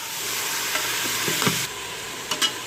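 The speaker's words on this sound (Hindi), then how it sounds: "इसको हम तकरीबन 10 मिनट तक लगातार भूनेंगे, ताकि इसका कलर तब्दील हो जाए और ये अच्छी तरह भून जाए।" Minced beef sizzles steadily in a hot pan, with a few brief scrapes and clinks of a spoon stirring it.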